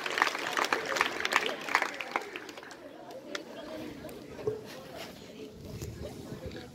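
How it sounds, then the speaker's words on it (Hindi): Audience at a government school ceremony in Lohari Ragho, Hisar, applauding as the principal is welcomed onto the stage; dense clapping and crowd chatter, strongest early and then thinning into a steady background murmur. "उनका जोरदार तालियों से अभिनंदन कीजिए"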